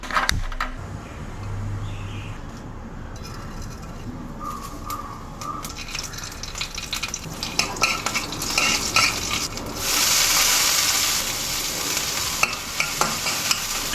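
A pan heats with oil while mustard seeds go in for masala bread upma, giving a steady frying hiss with scattered crackles and pops that grow louder and denser toward the end, plus a few clanks of cookware.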